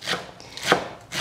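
A kitchen knife slicing through an onion on a cutting board: three crisp chopping strokes, close and clear, spaced roughly half a second apart, with no talking.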